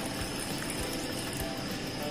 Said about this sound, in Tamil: இப்ப தேவையான அளவுக்கு தண்ணி விட்டு